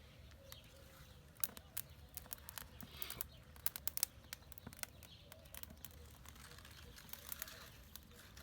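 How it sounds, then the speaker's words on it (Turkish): Scattered bird chirps and short calls over a steady low background hum on a quiet village morning, outdoors, with occasional soft rustling. "Sessiz sadece kuş sesleri."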